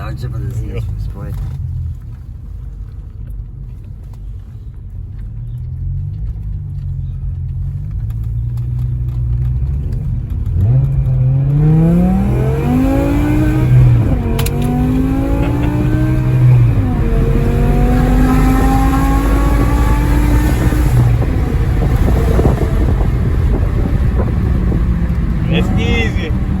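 BMW E60 M5 with a V10 engine, heard from inside: a low cruising drone, then revs that rise and drop in sweeps as it downshifts, followed by a loud sustained roar and wind noise.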